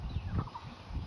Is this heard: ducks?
yes